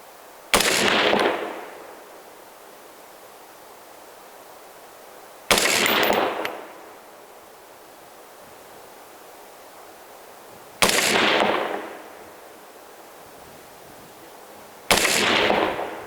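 Four suppressed rifle shots with 55-grain rounds, each a sharp muffled crack with a short fading tail, spaced several seconds apart in otherwise quiet outdoor air.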